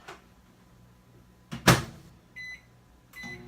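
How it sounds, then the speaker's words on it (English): A countertop microwave oven is started for eggs being meal-prepped, giving a sharp door or latch clunk, then a short beep and the low hum of it beginning to run, close and alone. "Okay, so I'm going to start my microwave."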